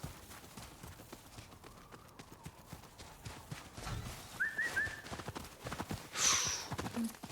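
Hooves of a horse in the video game Ghost of Yotei clip-clop in soft, irregular steps on a mountain pass, faint and close with light game ambience and a few brief tonal effects.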